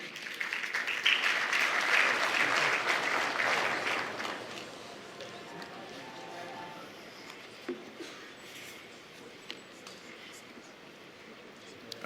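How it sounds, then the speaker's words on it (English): Audience applause at a bank's annual meeting for an economic advisor, broad dense clapping that swells loudly for about four seconds, then thins to scattered claps and room noise. "please give him a round of applause"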